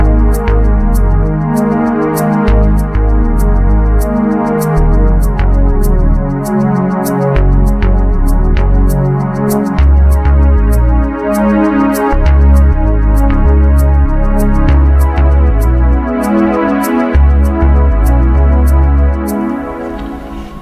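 Korg Kross keyboard played with a split: a bass line in the low register under a programmed drum track, both loud and steady, with regular percussive hits running through about twenty seconds of continuous music.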